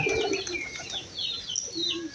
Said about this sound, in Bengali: সকালে উঠেই দেখি যে কবুতরগুলোকে গম খাওয়াচ্ছে